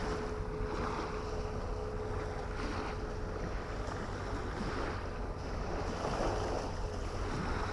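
Sea waves wash steadily onto the shore as the tide rises toward high water at a coastal fishing spot, a continuous rushing surge mixed with gusty wind buffeting the microphone.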